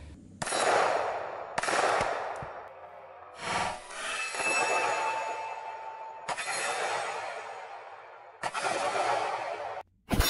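A Canik TP9SFX pistol fired without a compensator gives several sharp, loud reports, each followed by a long echoing decay, spaced unevenly a second or more apart, with a short rattle between shots.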